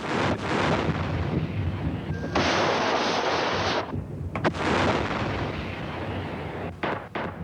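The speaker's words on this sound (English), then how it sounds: "Big self-propelled howitzers were used to soften up such positions from up to 30 kilometers away before the tanks moved up" Self-propelled howitzers firing in the 1982 Lebanon fighting: heavy, rumbling booms and blasts roll one into another over a constant roar, with a few sharper cracks standing out against the distant din.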